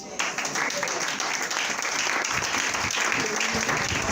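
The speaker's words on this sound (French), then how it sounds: "acclame Jésus" A church congregation applauds to acclaim Jesus during a sermon, steady dense clapping filling the room at an even, sustained level throughout.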